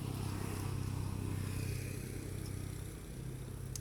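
A vehicle engine idles and runs steadily again after overheating on a steep uphill climb, a continuous low rumble heard close, with no talk over it.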